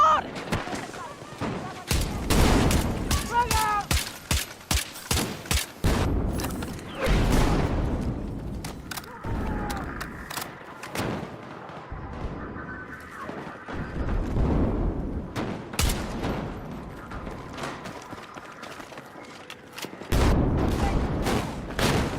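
Gunfire from an SVK rifle in a video game: repeated sharp loud shots in bursts and single cracks, mixed with mechanical clatter and other battle noise, with voices talking over it.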